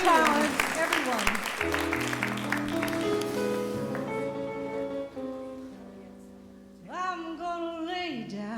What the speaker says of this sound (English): let's all give a big round of applause for Lisa Plumley